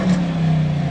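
An Audi A5 Sportback's 5-litre, 300 bhp engine hums steadily at a low, constant pitch, close and fairly loud, for about a second.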